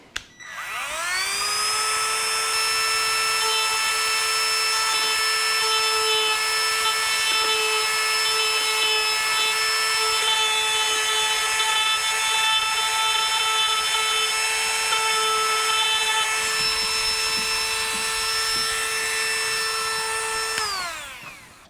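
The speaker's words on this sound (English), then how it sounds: "I'm just using a very, very, very, very small die grinding head there. And just grind a little plastic and some of that epoxy out of there" A very small die grinder runs up to a high whining speed and holds there while grinding plastic and epoxy from a cracked Firebird bumper, loud and close, then spins down at the end.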